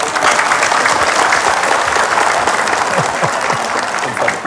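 A studio audience at a religious talk show claps loudly and steadily, a dense burst of many hands that continues throughout and tapers slightly near the end.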